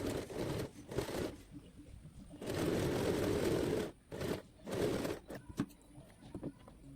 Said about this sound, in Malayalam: ലേസ് ഇതുപോലെ നമുക്ക് ടോപ്പ് സൈഡിൽ വെച്ച് വേണ്ട ഒന്ന് സ്ട്രൈറ്റ് ആയിട്ട് അടിച്ചു കൊടുക്കാം